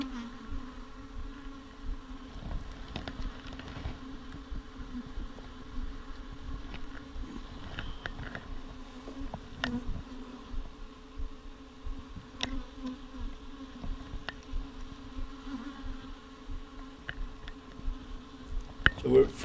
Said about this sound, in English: So there's a lot of bees around.